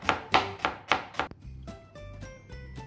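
A knife taps five quick, evenly spaced chops through peeled carrot, dicing it small on a board. The cuts are close and crisp, followed by a quieter stretch of faint kitchen hum.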